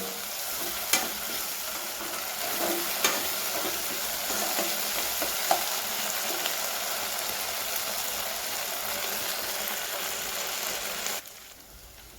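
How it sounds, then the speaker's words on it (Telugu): Ginger garlic paste sizzles steadily in a hot pan while a spoon stirs it now and then, the frying hiss continuous and close for about eleven seconds before cutting off. "ఇప్పుడు అల్లం వెల్లుల్లి పేస్ట్ పచ్చివాసన పోయే వరకు బాగా వేయించుకున్నానండి"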